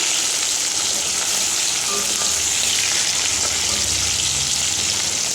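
Fish fries in a pan with a steady, hissing sizzle that stays even and close throughout, with no talk over it.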